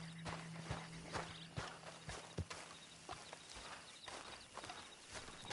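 A horse walks at an even pace in Red Dead Redemption 2, its hooves clip-clopping in a steady rhythm, soft and fairly close, with no talking.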